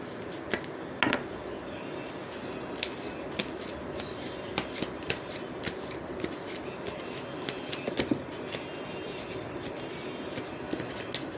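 A deck of cards is shuffled repeatedly, a busy run of crisp riffling flicks and snaps over about eleven seconds, close up and with no talking.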